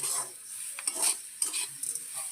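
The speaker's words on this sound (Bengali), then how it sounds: "সব ভালো করে মিশিয়ে" A semolina dessert mixture with sugar being stirred in a pan, giving a steady scraping swish with a soft sizzle and a few louder spoon strokes, close and without talk.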